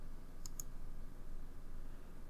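A computer mouse gives two quick, faint clicks close together early on, set against a low, steady background hum while drafting in AutoCAD.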